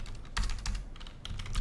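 Rapid typing on a computer keyboard during a Python PySpark coding session, a steady close patter of key clicks with small pauses and no talking.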